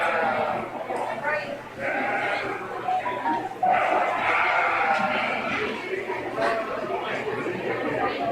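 Blackface market lambs bleat at a county fair sheep show ring, several calls rising over a constant murmur of crowd chatter and nearby voices.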